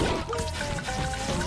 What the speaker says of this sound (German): Schnell hier über den kleinen Wasserfall drüber.